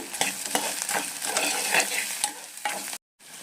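Sliced onions sizzle with rock salt in a hot pan as a spoon stirs them in soft, repeated scrapes, a close, continuous crackle that drops to a brief silence before resuming.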